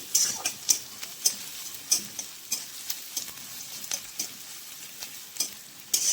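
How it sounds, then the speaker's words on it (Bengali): Onion stirred in hot oil in a black iron kadai, with a steady sizzle under repeated sharp scrapes and clacks of the spoon against the metal. "পেঁয়াজটা দিয়ে দিলাম, একটু নাড়াচাড়া করে নিই"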